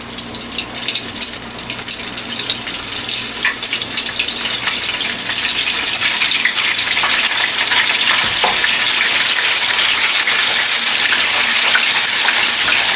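Chicken skins fry in hot oil in a loud, steady, dense sizzle that continues unbroken and close up throughout, with no talking.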